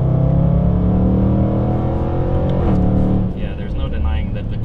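Startech Range Rover SVR with a quad-pipe exhaust, a deep steady engine rumble droning continuously with a slight shift in tone partway, heard close under someone talking.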